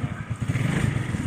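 A 2013 Lambretta LN 150 scooter engine turning over and catching, a close, steady mid-pitched motor chatter with fast regular pulses, loud and alone for a brief moment.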